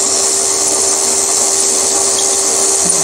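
A 6.8 mm tapping drill bores into a metal part for a mill vise stop, lubricated with WD-40, giving a steady, close, high-pitched grinding whir with no break.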